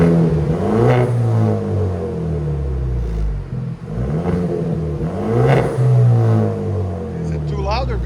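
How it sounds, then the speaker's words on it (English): 2023 Genesis G70 with a 2.0L turbo engine and its resonator and muffler deleted, revving several times in loud, rising and falling bursts over a deep exhaust rumble, with a voice briefly audible near the end. "Go ahead and give it gas."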